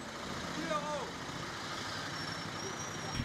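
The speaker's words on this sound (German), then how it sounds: "Rush Hour in Brüssel. Jeder will schnell nach Hause." Rush-hour street traffic in Brussels, a continuous low roar of cars, buses and trucks at moderate distance, with a faint brake squeal early on.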